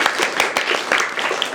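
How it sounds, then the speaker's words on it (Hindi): Children clap together in applause during a storytelling session, giving a loud, close, steady patter of many hands with no talking. "ताली बजाइएगा"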